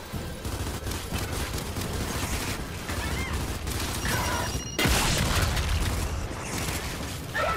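Rapid gunfire and sharp weapon blasts in the Gears 5 shooter video game, with dense bursts carrying on steadily and a heavier boom partway through.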